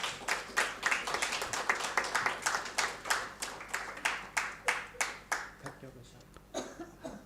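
Audience applause for conference panelists at a neuroscience and psychology event, a steady patter of many hands clapping that fades out toward the end, fairly close in a hall.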